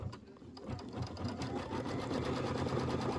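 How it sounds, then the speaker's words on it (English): An embroidery sewing machine quilts a Kimberbell Falling Into Autumn Warm Drinks quilt block, its needle hammering in a rapid, steady mechanical rhythm that starts up and settles into a continuous close drone. "Go ahead and hit your start button. And then we'll do the quilting."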